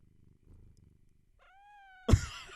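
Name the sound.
cat purring while being petted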